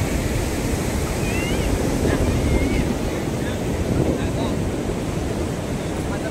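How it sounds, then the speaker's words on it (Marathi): Large ocean waves breaking at Bhate beach near Ratnagiri on the Konkan coast, a steady, close surf roar mixed with wind buffeting that carries on unbroken throughout. "लाटा बघा किती मोठमोठ्या येतात"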